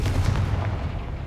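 Confringo spell explosion in a video game, a short, loud booming blast with a crackling burst and rumbling tail that fades quickly.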